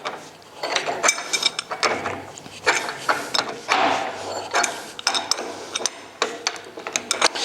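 A union nut is tightened on a steel or copper pipe joint with a wrench, giving a close, rapid series of metallic ratcheting clicks and scrapes in uneven bursts, with no talking.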